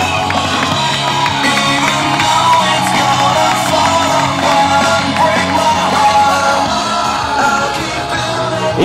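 A crowd at a strongman competition in Mamaia cheers, yells and applauds a competitor, a dense, loud, sustained roar of voices and clapping that holds steady throughout.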